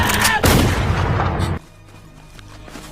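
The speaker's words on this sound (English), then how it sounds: "which forced Jun to fire his rifle" Loud, dense burst of rifle gunfire in a movie fight scene, sustained for about a second and a half, then dropping to a quieter low rumble and faint ambient tones.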